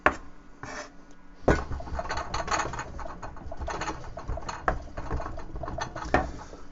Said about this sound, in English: Just finishing chopping that cheese.